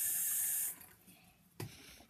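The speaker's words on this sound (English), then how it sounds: "So you pour a little bit of water." Water from a sink tap hisses steadily into a small Dixie cup, then cuts off, followed by a brief soft knock or splash.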